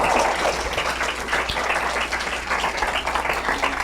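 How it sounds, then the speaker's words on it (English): Audience at a teen summit applauding, dense continuous clapping from a crowd that stays loud and even for several seconds. "Let's give these guys a round of applause."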